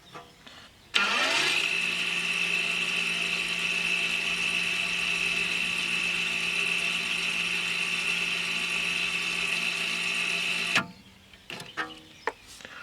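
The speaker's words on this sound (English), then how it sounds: "touch the 2 wires against the 2 terminals inside the motor, and this should release the caliper, and we're going to wind it fully back in the motor" The electric parking brake caliper motor from an Audi A4 B8 whirs steadily at close range for about ten seconds, driven by wires held to its terminals, then cuts out abruptly.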